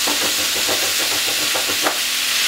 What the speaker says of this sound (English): It says to stir fry over a medium to high heat for about 5 minutes.